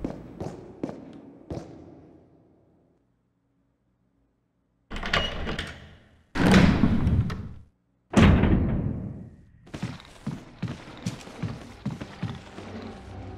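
Heavy door in Resident Evil Remastered, a few sharp knocks and then loud creaking opening and slamming thuds with silent gaps, followed by quieter footstep-like taps.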